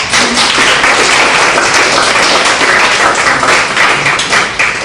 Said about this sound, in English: let's have one more round of applause for Amy, please.